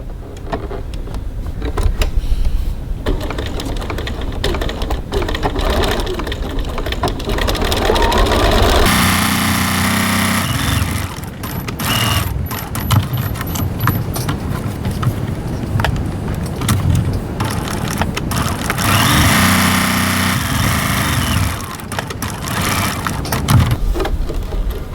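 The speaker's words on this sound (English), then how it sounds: "I'm going to stitch both lines beginning and ending at the end points." Domestic sewing machine stitching lines on a zipper facing at a 2.4 stitch length, running in bursts of rapid whirring with short pauses between runs, close and clear.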